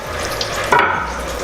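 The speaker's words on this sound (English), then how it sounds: "So it's frying beautifully there." Sweet potato fries frying in hot oil, a steady close crackling sizzle with a brief stronger spitting burst partway through, no voices.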